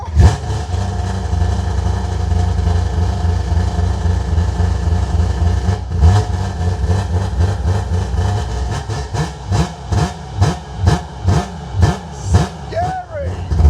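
Mini truck engine running, a loud rough idle with a steady low rumble that turns into a series of rhythmic revving pulses, with people talking over it.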